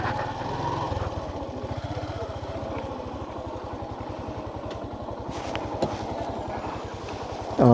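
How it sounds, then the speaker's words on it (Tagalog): A motorcycle engine on a village road in Maco, Davao De Oro chugs in a steady, rapid rhythm and stays close and fairly loud throughout, with faint clatter on top. "Kini, ay masulod na motor."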